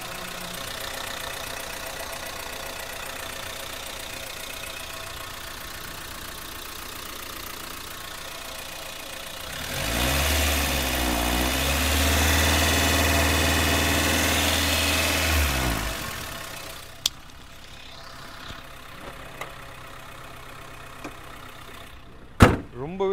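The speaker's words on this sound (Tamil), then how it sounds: "இப்போ வண்டியோட இன்ஜின் நாய்ஸ் நான் உங்களுக்கு மைக்கை பக்கத்தில் வச்சு எந்த அளவுக்கு ஸ்மூத்தாக இருக்குன்றதை காட்டுறேன்" A 2008 Maruti Swift petrol engine with an altered silencer idles steadily close to the microphone, the hum swelling louder for several seconds in the middle before dropping back, with a few sharp clicks near the end.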